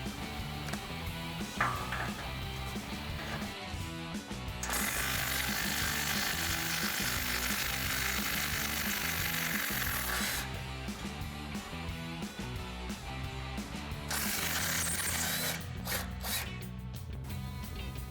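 A socket ratchet backs out 14mm factory exhaust bolts on a Toyota Tundra, giving a quick clicking rhythm that runs close and steady for most of the stretch, broken by a few longer bursts of spinning, with no talk.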